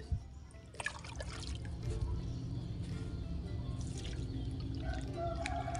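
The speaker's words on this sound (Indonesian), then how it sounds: "Kemudian brokoli kita siram-siram seperti ini ya." Water trickles and splashes steadily onto broccoli and other vegetable plants in a small home garden, a soft continuous pour with a few brief drips.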